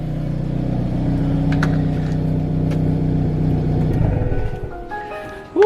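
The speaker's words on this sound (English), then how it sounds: "Now I'm gonna shut the car off." A Hyundai Veloster N idles with a steady, loud low exhaust drone after an exhaust modification, then shuts off as the rumble drops away, with a brief clunk at the very end.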